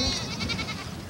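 Goats bleat at milking time, a dense, mid-distance chorus of overlapping bleats over farmyard noise without talk.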